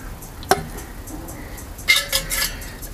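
Metal parts of a Solo Stove Lite and its alcohol burner clinking together during reassembly, one sharp ringing clank followed later by a cluster of lighter metallic rattles and scrapes, close and clear.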